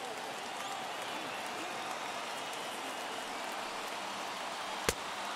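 A crowd of about 23,000 at a San Diego Padres home baseball playoff game against the St. Louis Cardinals rises and cheers, a dense, sustained roar with one sharp clap-like crack near the end.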